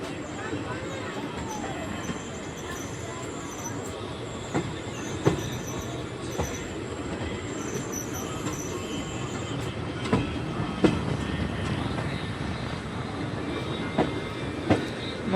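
Passenger train 19571 from Jetalsar to Porbandar runs into Vansjaliya junction station, heard from on board as a continuous rolling rumble with sharp clicks over rail joints and scattered metallic wheel squeals.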